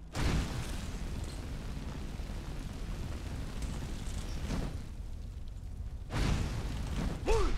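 A fire spell is thrown from the hand in Skyrim: a sustained roaring rush of flame with surging whooshes and a sharp burst near the end, and a voice briefly calls out.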